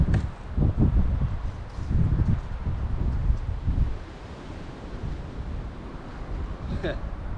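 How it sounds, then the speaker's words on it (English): Strong wind blows outdoors in a Texas garden and buffets the microphone. It makes a loud, continuous low rumble that swells and eases in gusts for the whole stretch. "Yeah, that wind."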